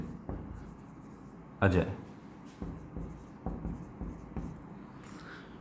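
Chalk or marker writing on a board during an accounting lesson on bills of exchange, a few short scratchy strokes, near and fairly faint, with a voice briefly over them.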